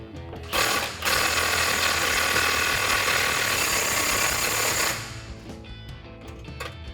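A socket tool drives a bolt through an aluminum bushing on coil-over suspension of a 2011-2023 Dodge Challenger, making a loud, sustained mechanical whirring for about four seconds before it drops away to quiet rattling.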